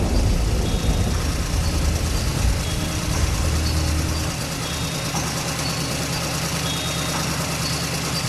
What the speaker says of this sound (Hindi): बुल्ली ने अपनी गाड़ी मोड़ी और सीधे गेम स्टोर की तरफ निकल गया।